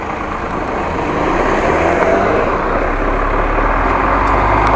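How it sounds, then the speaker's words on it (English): Bus passing close beside a cyclist on a Groningen street, a loud, steady engine rumble that swells slightly as it draws near, heavy low-end drone with road noise, no talking. "There was a bus to my right."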